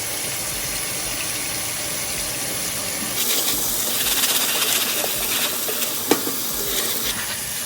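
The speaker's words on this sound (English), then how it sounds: "So now I'm going to rinse the black beans." Black beans being rinsed by hand in water, with a steady close rush of running water that turns to louder sloshing and swirling once hands stir the beans, plus an occasional sharp knock.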